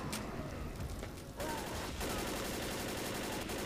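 Gunfire in the video game Left 4 Dead, rapid repeated shots aimed at a zombie, heard as a fairly continuous crackling burst of game audio.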